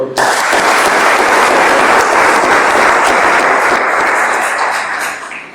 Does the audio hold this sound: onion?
no